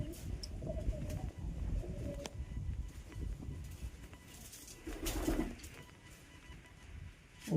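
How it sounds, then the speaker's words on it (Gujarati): Pigeons cooing at a stepwell, soft low coos that echo faintly inside the stone structure, with scattered light rustles and a sharp knock near the end. "કબૂતર પર જુઓ કેવા ગેલ કરી રહ્યા છે."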